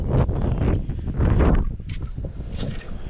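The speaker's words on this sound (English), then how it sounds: "Where'd this wind come from all of a sudden, boy?" Sudden wind gusting over the microphone outdoors on the water while fishing, a loud, rough low-pitched buffeting that surges and eases throughout.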